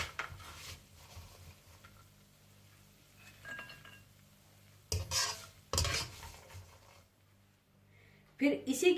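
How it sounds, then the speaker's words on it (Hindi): Raisins and melon seeds fry in ghee while being stirred in a pan, with soft sizzling, scattered metal clinks of a spoon against the pan, and a few louder scraping bursts near the end. "फिर इसी घी में आप हल्का सा किशमिश और चारे मगज को फ्राई करके निकाल लीजिएगा।"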